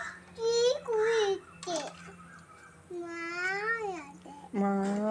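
A small child answers with a voiced imitation of a cat's meow, rising and falling in a few drawn-out cries, close and clear, between an adult's prompting questions at home.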